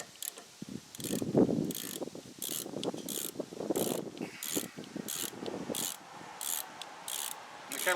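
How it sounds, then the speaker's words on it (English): A Harbor Freight extendable ratchet is used on lawn tractor steering parts, giving a close, rapid, regular train of clicks with low scraping and rubbing underneath; no voices. "I kind of like this Harbor Freight ratchet."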